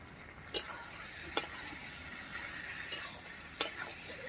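Potatoes are stirred into a pot of browned mutton curry, sizzling softly under a steady hiss, with a few sharp clinks of a spoon against the pot scattered through it.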